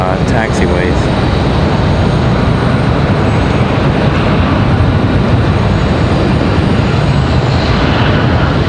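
Jet engines roar steadily and loudly across the apron at Raleigh-Durham International Airport while an American Airlines airliner pushes back on the far side. The dense, unbroken noise continues throughout.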